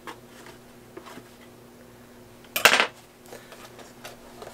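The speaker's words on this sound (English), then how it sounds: "And I just flip it out." A freshly baked zucchini bread loaf is flipped out of its metal baking pan, giving one brief clattering knock and rattle of the pan against the counter amid quiet kitchen room noise.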